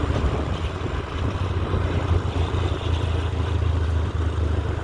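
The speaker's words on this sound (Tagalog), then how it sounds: "Mahangin." Steady wind rushes and buffets across the whole stretch, a low continuous roar with gusty rumble, no voices.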